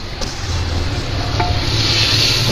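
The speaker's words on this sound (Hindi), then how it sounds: "दो मिनट इसको भूनेंगे" Green chillies frying in a pot for mint pulao make a steady close sizzle, with a few stirring scrapes and taps and no talk.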